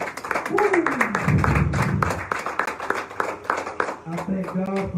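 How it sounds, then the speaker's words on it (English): Church congregation clapping hands in praise, a dense rhythmic patter of many hands under a preacher's loud, excited voice and whoops, running steadily through the whole stretch. "Give God a hand clap of praise."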